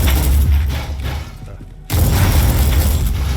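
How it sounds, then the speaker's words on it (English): Loud, dense blasts and booming impacts from a shotgun firing in the video game Warhammer 40K Inquisitor, filling the whole stretch with only a brief dip before the roar resumes. "Switching to shotgun."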